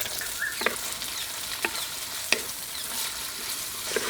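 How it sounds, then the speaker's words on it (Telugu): Chopped onions fry in a few spoons of hot oil, a steady close sizzling hiss broken by several sharp spoon clinks against the pan, with no talking. "నూనె వేడెక్కగానే కోసి పెట్టుకున్న ఉల్లిపాయలు వేసేసుకుందాం"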